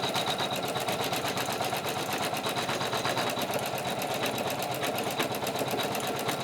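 An embroidery sewing machine stitches an angel panel for an IHS vestment, its needle hammering in a fast, steady, even rhythm, loud and close with no voices.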